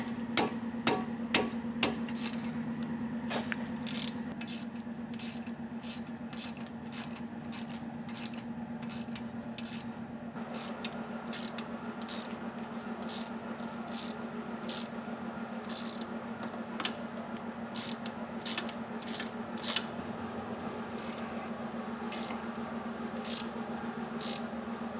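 Hand tools work wheel bearing bolts on a 2002/2003 Chevrolet Trailblazer 4WD front hub, without air tools: a steady run of faint, evenly spaced metallic ticks and clicks, like a ratchet, over a low constant hum, no talking.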